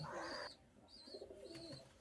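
Madras line pigeons sitting on eggs give faint, soft coos in two short low phrases, with light chirps above them, quiet and a little distant.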